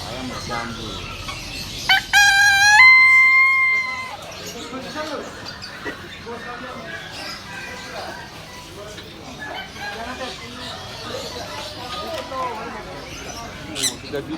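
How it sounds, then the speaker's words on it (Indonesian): A jambu rooster crows once at a busy bird market, a clear rising call near the start, followed by background chatter, clucks and people talking. "Ayam berjambu."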